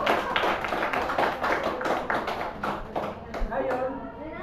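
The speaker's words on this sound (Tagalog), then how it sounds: "bigyan natin ang ating sarili ng palakpak" A classroom of students clapping together in a quick, steady burst of close hand claps that lasts a few seconds and then fades, with voices mixed in.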